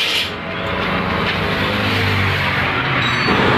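A Nissan Maxima engine idling steadily after a fuse box repair, a close, loud continuous motor hum with a low droning tone that holds even for several seconds, no talking.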